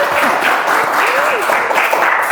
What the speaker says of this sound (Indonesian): para kru boleh tepuk tangan dong biar nggak sepi